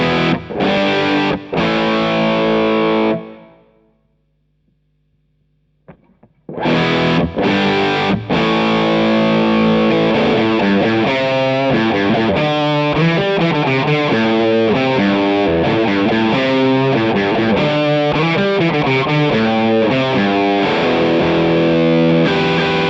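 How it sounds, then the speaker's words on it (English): Electric guitar played through a Nux Cerberus multi-effects pedal with a distorted, thick, chunky Marshall-style tone and plate reverb: loud sustained chords and riffs, a brief pause with a faint hum, then a continuous rhythmic chugging passage. "Now that's a nice fat chunky Marshall sound."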